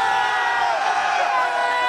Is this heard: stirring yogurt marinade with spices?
no